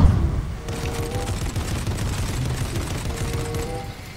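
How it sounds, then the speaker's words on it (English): Gunfire in the Fortnite battle royale, a rapid burst of shots followed by sustained crackling fire at moderate distance, dense and continuous with no voices. "Carson, they're shooting over there"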